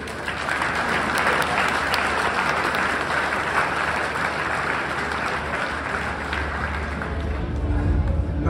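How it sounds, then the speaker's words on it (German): Sustained applause from an audience at a Swiss Jersey cattle show, honouring the six finalist animals; dense, even clapping fills the hall for the whole stretch without pause. "geben Sie diesen hervorragenden 6 Einzeltieren in diesem Finale noch einmal einen großen Applaus"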